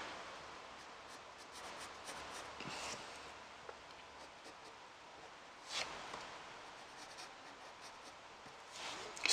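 Pencil drawing manga-style hair detail on paper, a soft, close scratchy scribble of quick strokes and rubbing with short pauses, quiet and alone.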